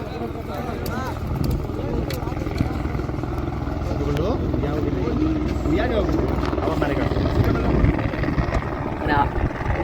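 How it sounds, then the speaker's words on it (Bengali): A loud, steady helicopter rotor drone fills the scene on the Kedarnath route and grows slightly louder as it approaches, with voices talking over it. "হেলিকপ্টার আসছে, এই দেখুন।"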